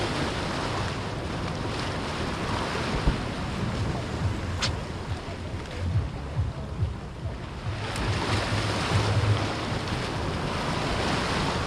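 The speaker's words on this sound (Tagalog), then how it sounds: "Grabe ang alon guys." Ocean waves wash and crash continuously while jigging from a boat, mixed with heavy wind buffeting the microphone and a faint boat rumble underneath.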